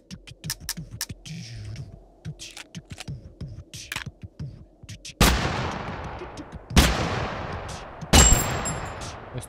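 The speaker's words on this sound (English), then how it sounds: "That's two shots, man." Gunfire in the video game Totally Accurate Battlegrounds: after a stretch of rapid clicking, three loud separate shots ring out with long decaying tails.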